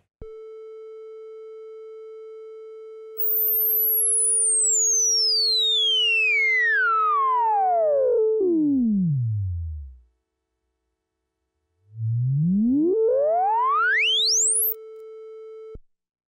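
A steady synth tone whose filter sweeps, its bright overtones gliding down into a low rumble, silence, then sweeping back up before cutting off.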